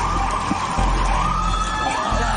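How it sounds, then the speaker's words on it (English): An ambulance siren sounds steadily through a continuous wail that rises and falls gently, moderately loud and drawing nearer, with background rumble. "The ambulance is coming. I hear it."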